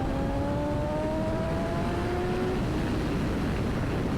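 A BMW M1000XR motorcycle accelerates hard on an open road, its engine pitch rising steadily through the gears under a constant roar of wind rush, loud and close throughout.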